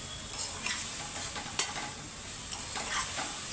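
A spoon stirs Kashmiri chili powder and pav bhaji masala through a pan of vegetables, giving soft scraping strokes over a faint sizzle, close and quiet with no talking.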